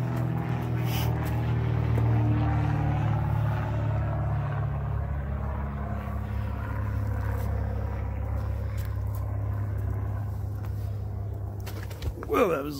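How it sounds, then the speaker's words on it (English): A plane flying overhead outdoors, heard as a loud, steady low drone with a slowly shifting pitch filling the whole stretch, with a brief clatter near the end. "there goes that plane."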